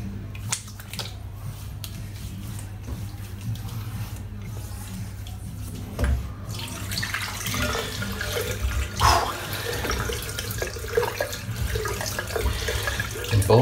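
Tap water runs steadily into a sink while a synthetic shaving brush is rinsed out after a shave, with splashing and swishing bursts over the constant flow, close and moderately quiet.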